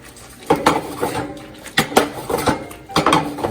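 Metal utensil scraping and clattering in a pan as tomato sauce with sweet basil is tossed, several quick bursts of stirring noise close up with no talking.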